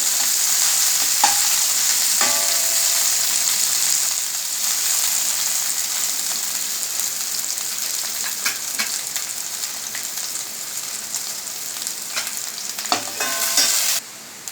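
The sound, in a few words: stirring chicken chowmein frying in pan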